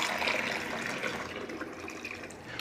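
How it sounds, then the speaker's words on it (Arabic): Warm water pours steadily into a pot over browned chicken for Egyptian-style Saudi kabsa, a continuous close splashing fill with no talk. "معانا برضو شويه الميه الدافين الحلوين اهم، هنغطي بيهم الفراخ."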